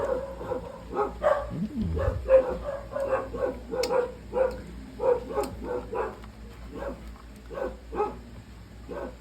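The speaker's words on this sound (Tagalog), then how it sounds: "Yung mga aso talaga na ingay." Several dogs bark repeatedly in short, uneven bursts at moderate distance, with a few higher yips mixed in, over a low steady background hum.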